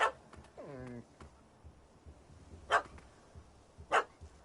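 A dog barks in The Witcher 3: Hearts of Stone, with a few sharp separate barks and a short whining yelp over a quiet background.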